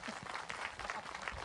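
A church congregation claps together, a faint, steady patter of applause continuing without a break.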